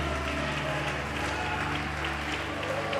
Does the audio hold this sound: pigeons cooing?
no